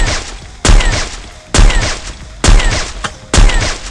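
AWM sniper rifle no-scope shots fired in a shooting game, four loud, sharp booming reports spaced roughly a second apart, each with a short ringing tail and no talking.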